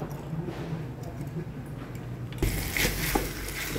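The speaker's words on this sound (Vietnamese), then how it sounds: "Thịt im chiên nãy giờ nó cũng đã chín rồi nè" Pork frying in a pan with a sweet-sour fish sauce coated over it, a steady sizzle and stirring that grows louder and brighter partway through, with occasional utensil clicks and no talk.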